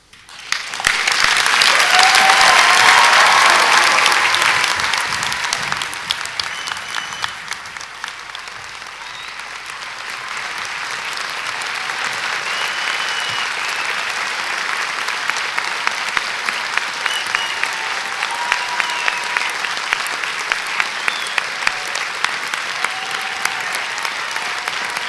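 Graduation ceremony audience breaking into applause and cheering after Faculty of Education students are presented, a loud swell of clapping and whoops at first that eases into sustained, steady clapping with scattered sharper claps.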